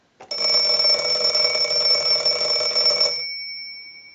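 A single long, loud burst of clanging Western Electric 302 rotary desk telephone bell ringing, lasting about three seconds before cutting off and leaving a brief fading tone.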